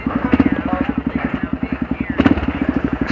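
A 12-year-old Kawasaki KLR 650 dual-sport motorcycle engine runs steadily with a close, even thumping pulse, its rhythmic firing loud and continuous for a few seconds.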